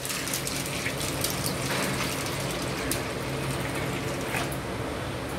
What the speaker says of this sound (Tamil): இது முங்குற அளவுக்கு தண்ணி ஊற்றிக்கலாம்.